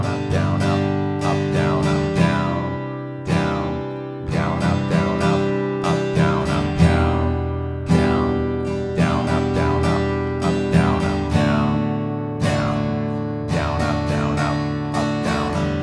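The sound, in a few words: guitar strumming 16th note pattern over chord progression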